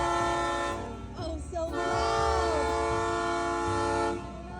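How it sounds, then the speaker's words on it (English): A Hawaiian Railway Society train passes close by, its loud, steady rumble filling the scene while a horn sounds briefly and wheels squeal and clack along the rails, with no voices heard. "Linky was super excited to see the train come by"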